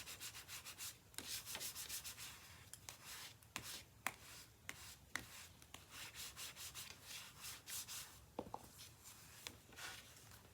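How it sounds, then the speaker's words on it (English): Paper card stock is burnished while making a sympathy card, with repeated dry rubbing strokes in short uneven bursts, close and fairly soft, and no voices. "Give it a good burnish."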